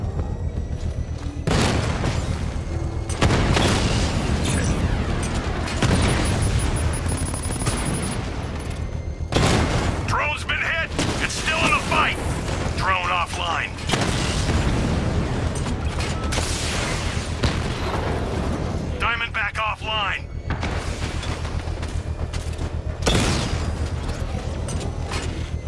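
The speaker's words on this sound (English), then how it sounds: "I can use the power wing to trigger a controlled explosion." Explosions in the video game Batman: Arkham Knight: repeated heavy booms mixed with mechanical clanks and crackling bursts over a steady dense background, with no talk.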